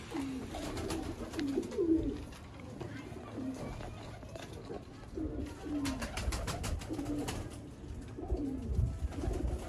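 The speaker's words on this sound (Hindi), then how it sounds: "सियालकोटी कबूतर।" Sialkoti pigeons coo in low, repeated throaty phrases, several birds calling close by against a busy background with some rustling.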